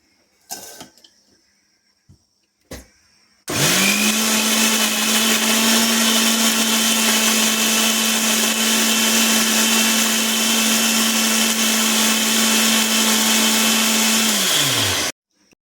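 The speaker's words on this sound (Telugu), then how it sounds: "ఈ 4 వేసి మిక్సీ వేసుకోవాలి." A kitchen mixer grinder whirs loudly and steadily for about twelve seconds, grinding coriander, green chilli, salt and turmeric into a paste, after a few light clicks and knocks as it is set up.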